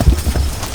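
Horses walking outdoors, hooves clip-clopping in a quick short sequence of close, fairly loud thuds.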